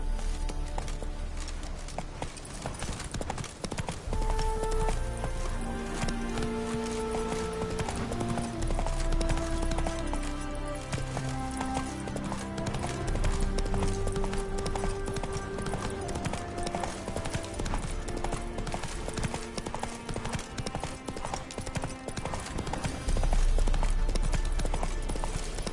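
Horse hoofbeats from The Witcher 3 on PS5 keep a steady, continuous clip-clop rhythm under orchestral game music for the whole stretch, with no talking.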